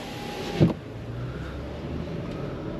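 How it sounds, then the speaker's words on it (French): A Porsche Macan S setting off on a road test, with a soft thump, then a low steady engine hum and faint road noise heard from inside the cabin, no talking. "Donc on est enfin prêt pour partir pour l'essai routier de ce Porsche Macan S."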